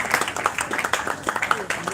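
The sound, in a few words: audience applause for the winners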